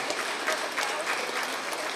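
An audience at a student felicitation ceremony claps loudly and steadily, a dense continuous applause filling the whole moment.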